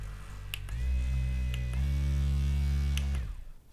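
A Vibe 2X Power Peanut vibrating massage foam roller's motor hums steadily at close range, a loud low drone that holds for about two and a half seconds, steps up in pitch partway through, then winds down.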